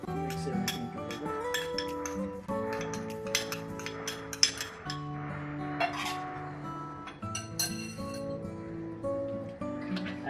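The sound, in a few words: mixing dry cake ingredients in a bowl, clinking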